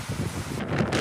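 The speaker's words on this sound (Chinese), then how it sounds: "台东市区也感受到这股强风的威力" Typhoon wind roars through the streets of Taitung city, a strong, steady gusting rush with buffeting on the microphone and no voices.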